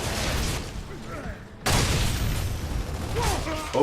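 Gunfire in the third-person shooter Gears of War: Judgment, dense and loud across the whole stretch, with a sharp burst after a brief lull midway and a voice talking over the battle noise.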